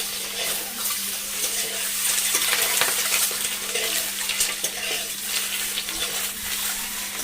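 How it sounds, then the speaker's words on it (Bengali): An egg frying lightly in a pan, a dense steady sizzling hiss with faint crackles throughout and a low steady hum underneath, no speech. "ডিমটা আমি হালকা করে ভেজে নেব"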